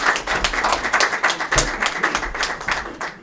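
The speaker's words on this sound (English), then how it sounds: "Please, a round of applause, ladies and gentlemen." Audience applause at a CEO Club UK business reception: a dense, steady patter of many hands clapping together, sustained at an even level for a few seconds with no voices over it.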